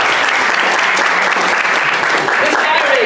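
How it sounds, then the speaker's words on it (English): Steady, dense applause from a meetup audience on real estate buy-and-hold investing and property management, loud and continuous throughout with no break. "give a round of applause again, okay?"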